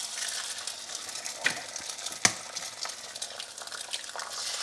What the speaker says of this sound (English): I'm gonna crack my egg in here.